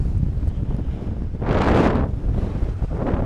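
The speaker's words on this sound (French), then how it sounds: "Comme il y a pas mal de vent" Steady roar of strong wind buffeting the microphone while paragliding over the coast at Pénestin, swelling into a louder gust midway before settling back to a constant rush.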